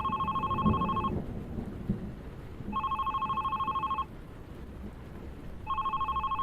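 A telephone rings in the video game The Red Strings Club with a bright electronic double tone in three long bursts separated by pauses, over a low rumbling ambience like rain or thunder.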